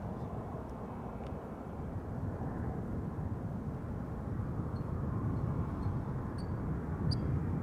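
A KLM airliner arriving at Amsterdam Schiphol Airport, a broad low engine roar that slowly swells louder over several seconds as the jet nears, steady and rumbling with no talking.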